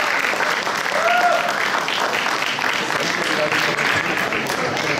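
Audience applause for prize-winning children at a Deepawali celebration prize distribution after a kids' tournament, loud continuous clapping from a large crowd filling the whole stretch, with faint voices mixed in.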